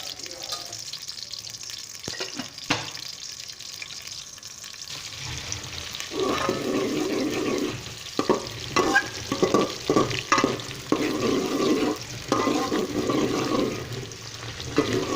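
Kala chana frying in hot oil until golden brown for a Pakistani pulao, a steady sizzle that grows louder after a few seconds, with repeated stirring scrapes and clatters against the pot.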